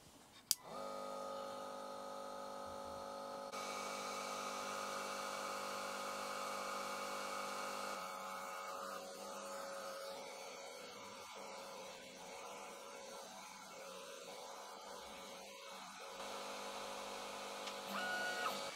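An Ortur Laser Master 3 10W laser engraver cuts a 7 mm spruce board with a steady, faint mechanical whine and hum from the machine, with small crackling ticks partway through and no talking.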